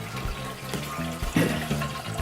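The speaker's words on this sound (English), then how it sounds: "I attached the outlet water from my wort chiller" Water from a homebrew wort chiller's outlet hose runs into a bottle, a steady rushing pour with gurgling and splashing that shifts slightly in tone as it fills.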